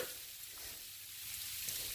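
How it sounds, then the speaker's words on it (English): Sleet falling on a freezing day makes a faint, dense, even hiss of tiny ice pellets pattering continuously, close by and alone. "that, my friend, is what you call sleet"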